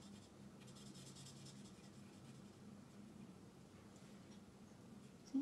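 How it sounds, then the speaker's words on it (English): Colouring in a stamped greeting card: a soft, steady rubbing and scratching of a pen or pencil on card stock, faint and continuous at close range, with no talk. "See, I'm just colouring through."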